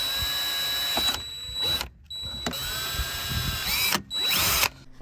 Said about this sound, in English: we're just basically going to drill a couple of small holes here.